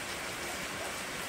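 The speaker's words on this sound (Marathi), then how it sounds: "पाऊस अजून पण जोरात चालू आहे एकदम" Heavy rain on a monsoon trek in the Varsubai range of the Sahyadri hills near Wandre makes a steady, dense hiss that stays even and close for a brief moment, with no talking.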